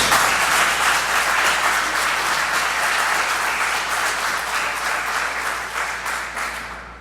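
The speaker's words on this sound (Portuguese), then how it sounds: "Dá um aplauso ao Senhor Jesus nessa manhã" A church congregation applauds during a morning worship service: a dense, steady wash of clapping from many hands that continues without talk and tapers off slightly toward the end.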